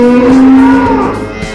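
Cattle on an urban dairy farm in Jakarta let out a loud, close moo with a drawn-out tonal bellow that slowly falls away, heard alone without talk.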